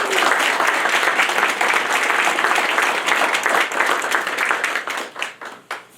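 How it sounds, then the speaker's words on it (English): A crowd gives a loud round of applause at the East Riverwalk groundbreaking in Kankakee, dense sustained clapping that thins out and tapers in the final second. "Can we give them a bigger round of applause?"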